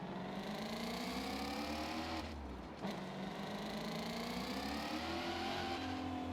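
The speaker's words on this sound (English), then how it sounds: "it's like a legitimate GT350R motor" A GT350R race car engine in Forza Horizon 5 revs continuously, its pitch rising and falling across gear changes, with a brief dip in the middle; loud and close throughout.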